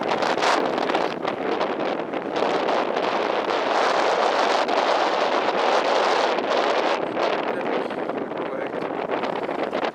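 Strong, gusting wind at a sailing regatta in Puck, Poland, buffets the microphone in a constant loud rush, with faint water and rigging noise underneath.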